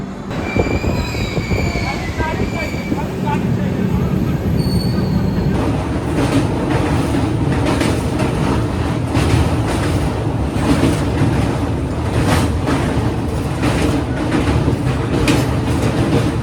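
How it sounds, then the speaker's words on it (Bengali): The Coromandel Express passenger train, leaving Jajpur Keonjhar Road station, rumbles along steadily, wheels clattering rhythmically on the rails, with a faint squeal early on and a loud continuous roar. "ট্রেন আমাদের জাজপুর কেওনঝাড় রোড ছেড়ে দিল"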